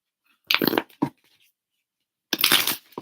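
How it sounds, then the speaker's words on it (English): Tarot cards are shuffled during a live reading. There are three short, crisp riffling bursts, a long one, a quick flick, then another long riffle after a silent pause, all close and clear. "I'm going to shuffle these cards so that they start off fresh for you."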